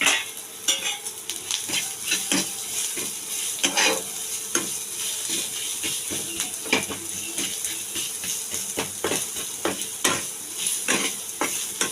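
Chopped onion, garlic, ginger and green chili frying in a pan for dal fry, a low steady sizzle broken by repeated sharp scrapes and clinks of a spatula stirring against the metal pan, close and without talk.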